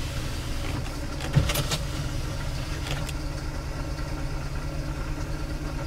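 A car engine idles steadily at close range after starting up while the alternator begins charging, a constant low hum joined briefly by a sharp click and a short whirring burst near the start, with no talking.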